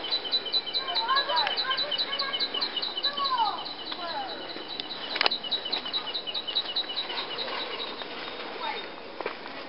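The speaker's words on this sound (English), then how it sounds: "There's a baby mistle thrush fledged out of the nest." Thin, repeated high chirping calls from a mistle thrush fledgling, with other birdsong and a busy outdoor background, moderately loud throughout.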